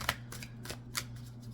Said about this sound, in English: Still shuffling backwards.